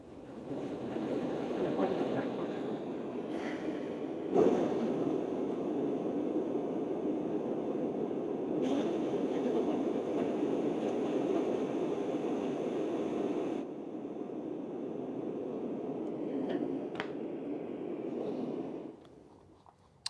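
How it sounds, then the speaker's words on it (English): Steady broadband hiss of white noise from a Pure Resonance Audio SMG1 white noise generator playing through speakers, continuous and fairly loud for about twenty seconds before cutting off near the end. "it's creating that white noise that's going through my speakers"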